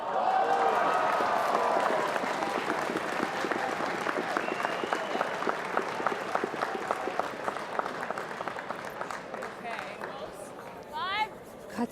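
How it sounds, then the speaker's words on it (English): Applause and cheering from a lively, packed afternoon curling crowd at the 2017 Ontario Scotties, steady clapping spread across the arena and tapering toward the end, with a few voices and whoops rising over it. "Got such a lively crowd in here for this afternoon's draw"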